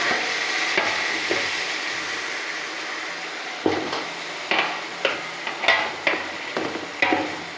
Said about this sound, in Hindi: अब जो है इसके अंदर मैं ऐड कर रही हूँ ये चिकन। अब इसकी मैं अच्छी तरह से भुनाई करूँगी।